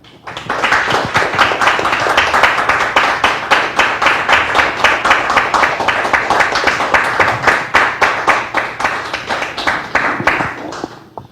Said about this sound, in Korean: 나오실 때 큰 박수로 맞아주시기를 바랍니다